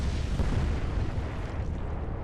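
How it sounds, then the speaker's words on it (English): A torpedo detonates against a freighter in the naval war game Atlantic Fleet, a loud, deep rumbling blast that rolls on without a break, with no talk over it. "And the other torpedo struck that one."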